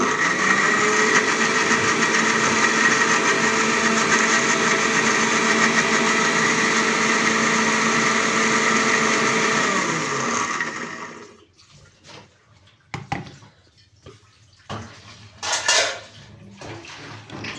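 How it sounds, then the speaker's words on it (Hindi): A kitchen blender whirs steadily and loudly while making carrot juice with milk for about ten seconds, then cuts off, leaving a few faint clatters and knocks. "अभी इसी में मैं अपने लिए गाजर का जूस बनाने लगी हूँ"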